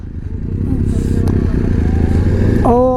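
A motorcycle rides a mountain road on the Padum-to-Kargil route in Zanskar, its engine giving a close, steady rumbling drone with some clatter, before a brief voice cuts in near the end.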